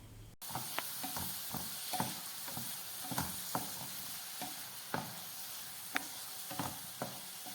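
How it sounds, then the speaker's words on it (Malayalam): Prawns and masala are stirred and fried for a Kerala prawn roast: a steady low sizzle broken by regular scraping strokes of a spoon against the pan, close and moderately quiet. "ചെമ്മീനിലെ ജ്യൂസെല്ലാം ഇറങ്ങി നിറം മാറുമ്പോൾ മസാല എല്ലാം കൂടി മിക്സ് ചെയ്ത് കൊടുക്കുക"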